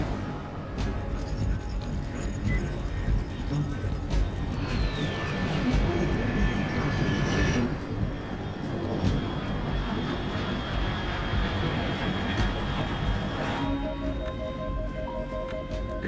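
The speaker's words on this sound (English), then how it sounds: "Unidentified aircraft detected." Aircraft engine in the video game Metal Gear Solid Delta: Snake Eater, a steady broadband roar with whining tonal sweeps that holds loud throughout, with game sound effects and beeps near the end.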